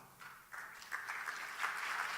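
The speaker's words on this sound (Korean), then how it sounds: "뜨거운 박수로 환영하십시다" A church congregation at a Sunday evening service claps to welcome a visiting missionary. The applause is quiet and a little distant, and it swells in small waves as more hands join.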